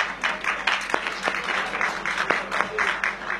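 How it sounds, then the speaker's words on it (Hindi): A crowd at a Hindi poetry gathering breaks into applause, dense clapping with sharper individual claps standing out, loud and sustained under some faint voices. "एक बार तालियां बजा दीजिए।"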